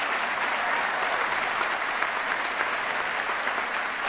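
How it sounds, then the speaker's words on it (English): A crowd at a high school commencement ceremony applauds award winners with steady, dense clapping that fills the room at an even level throughout. "One more round of applause for our award winners."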